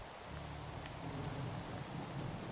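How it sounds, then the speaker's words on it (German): Rain falls in the Minecraft video game, a soft, steady hiss of rainfall that stays quiet and even throughout, with no talking. "Ach nee, es regnet wieder."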